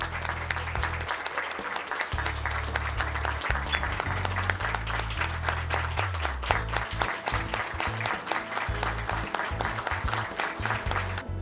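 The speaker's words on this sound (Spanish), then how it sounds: "Un aplauso, por favor." An audience at an ophthalmology institute's anniversary ceremony applauds for a long time, the clapping steady and full throughout while a low, sustained musical tone plays underneath it.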